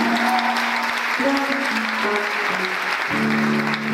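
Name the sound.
congregation applauding in praise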